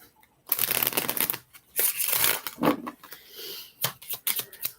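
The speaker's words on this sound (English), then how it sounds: "Yeah, see, I start shuffling." Rapid riffling bursts of playing cards being shuffled, close up, in several quick runs separated by brief pauses, with no voices.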